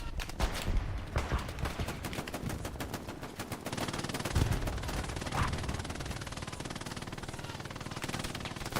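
An MG42 machine gun fires in long, steady automatic bursts in the game Hell Let Loose, close and loud, with dense rapid reports running through the whole stretch amid a busy battlefield.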